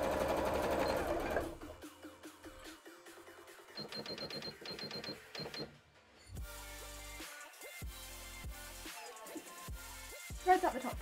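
A sewing machine stitches cosplay shorts in a few close runs of rapid mechanical clatter, stopping and restarting, with handling clicks and bumps between bursts.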